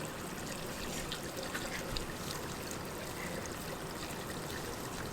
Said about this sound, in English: Now we pour the 50/50 in.